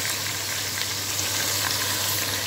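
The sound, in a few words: onions frying until brown for biryani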